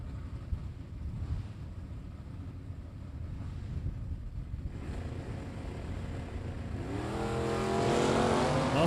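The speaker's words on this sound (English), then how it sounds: "Brad in the Chevy stick-shift Camaro, 960 to a" Drag racing cars, a Ford Mustang and a stick-shift Chevy Camaro, heard as a roaring blur of engine and wind noise that swells near the end into a loud rising engine rev.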